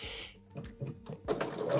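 A sewing machine with a walking foot stitching a quilt, a short run of soft rhythmic mechanical ticks that grows louder toward the end, close and fairly quiet.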